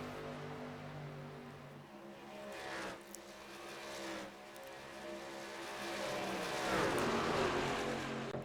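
Stock cars in a NASCAR sim race at Chicagoland, with worn tyres, drone continuously at close range. The engine note holds steady, shifts pitch, dips briefly and swells louder toward the end.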